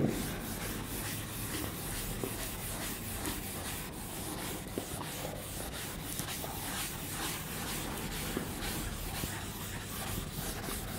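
Chalk writing is rubbed off a classroom board with a steady, continuous scrubbing swish that stays even and close for the whole stretch, with no talking.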